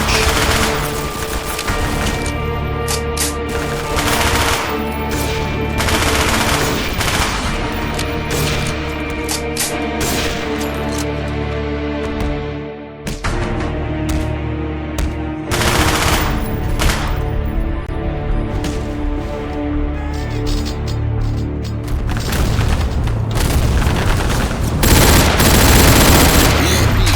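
Video game combat with a Predator missile strike, dense and loud rapid gunfire, bursts and booming explosions running continuously and close, heavy and chaotic throughout.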